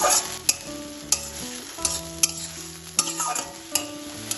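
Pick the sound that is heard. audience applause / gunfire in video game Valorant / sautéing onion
sautéing onion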